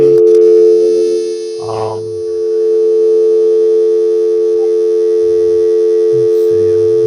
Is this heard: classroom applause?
no